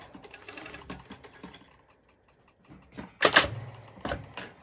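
A serger stitching pole dance bottoms with a net overlay sounds in short mechanical bursts: faint clicks early on, a quiet pause, then a loud, sharp whirring run followed by a couple of brief, lighter bursts up close.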